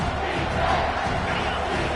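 Stadium crowd roaring in a Madden football video game, a steady dense wash of cheering and yelling that holds at an even level for the full two seconds with no break.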